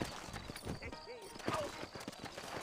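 Horse hooves clip-clopping in the video game Red Dead Redemption, a quick rhythmic patter of steps under people talking, with a brief snort or whinny in the middle.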